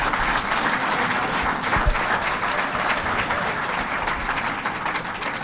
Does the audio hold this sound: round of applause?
yes